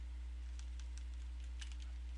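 Computer keyboard keys tapped in short, irregular clicks, a few quick presses clustered together over a steady low hum, close and clear with no talking.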